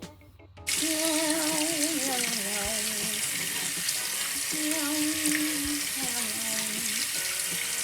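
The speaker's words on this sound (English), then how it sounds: "Now it's time to wash an apple." A continuous splash of running tap water, washing an apple, fills the clip after a brief quiet start, with faint hum and occasional small knocks underneath.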